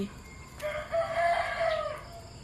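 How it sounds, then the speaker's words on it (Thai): A rooster crows once in a long drawn-out call, fairly close, outdoors in a small garden on a rainy morning, over a soft steady background hiss with no talking. "ฟังเสียงไก่"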